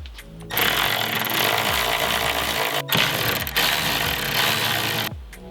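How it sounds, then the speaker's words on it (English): A power tool with a 14mm socket removes strut bolts on a BRZ/FRS/86 during a spring install. It makes two long, loud, rattling bursts of harsh hammering noise, close by, with a brief pause between them. "we're going to go ahead and use the 14mm socket to get these bolts off"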